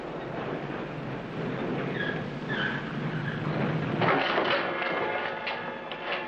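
Passenger train cars run on rails with a continuous close rattle and rumble, faint metallic squeals, and a louder surge of clatter near the end.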